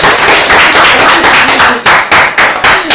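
A studio audience on a TV2 show claps in a loud, close burst of sharp, rhythmic hand claps. The claps settle into distinct, evenly spaced strikes toward the end, with no voices.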